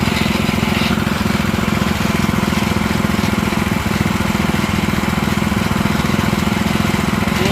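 A motorized digging and water-pumping machine used to excavate a swimming pool runs close by, a loud, steady chugging engine drone with no break.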